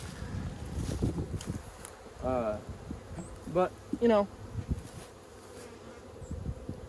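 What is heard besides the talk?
honey bees buzzing in a hive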